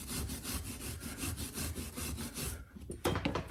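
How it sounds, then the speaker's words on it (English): Wire brush scrubbing the brake pedal assembly of a 1972 VW Super Beetle, a steady close rasping scrub with rhythmic strokes that breaks off near the end into a few sharper scrapes. "I got to give it a little wire brushing"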